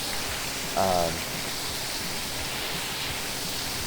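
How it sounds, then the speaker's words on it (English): Steady hiss of rain falling during a motorcycle trip, with a brief faint tonal sound near the start and some low rumbling underneath. "It's still raining,"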